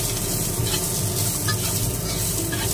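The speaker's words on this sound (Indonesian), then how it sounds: "Lalu persiapan menumis bawangnya" Onions sizzle as they are sautéed in a hot pan for a Chinese dish of dried tofu and leeks, with a steady frying hiss and faint stirring scrapes throughout.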